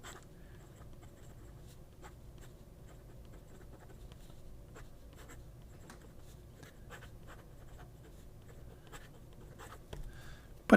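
Writing with a huge double broad stub fountain pen that is starting to dry up, giving a soft, steady scratch of the nib across paper for about ten seconds, close and quiet with no talk.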